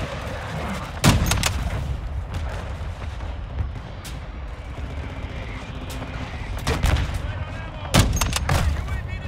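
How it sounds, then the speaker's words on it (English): Mortar strikes land in Call of Duty: Modern Warfare 2, heavy booms hitting around the one- and eight-second marks, with smaller blasts and gunfire crackling over a steady battlefield rumble. "Hostile mortar strike near your position."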